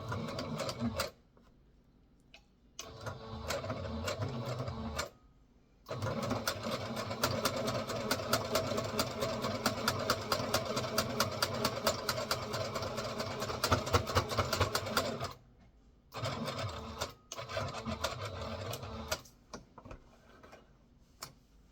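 Sewing machine straight stitching with shirring thread, running in long steady bursts of rapid rhythmic clatter with brief pauses between runs, close and moderately loud.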